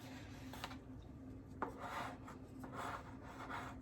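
Sandwich bread dough being scraped from the ends of a mixing bowl, heard as soft, close rasping and rubbing strokes in a few short bursts over a low background hum.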